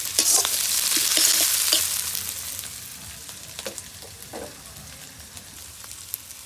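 Leftover sour fermented rice khichuri sizzling in a hot pan, a loud crackling fry at first that gradually fades, with occasional scrapes and taps from a stirring spoon.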